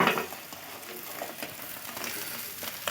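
A homemade roll fries in oil in a pan, giving a steady, close crackling sizzle with scattered pops and light stirring clicks throughout, no voices.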